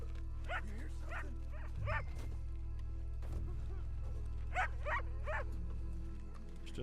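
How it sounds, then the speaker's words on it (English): A dog in the Red Dead Redemption 2 video game barks in two clusters of three or four quick barks at moderate distance, over a steady low game hum. "It's just a dog."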